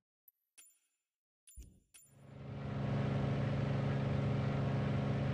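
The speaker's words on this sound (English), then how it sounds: "I'm going to put the engine sound up a little bit because I think it should be a little higher." Grumman Goose engine in Microsoft Flight Simulator, silent at first apart from a few soft clicks, then cranking and catching into a steady, loud radial drone that builds and holds.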